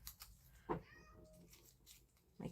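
A pet cat meows from somewhere nearby in a quiet home, with two short meows about two seconds apart and faint background noise in between.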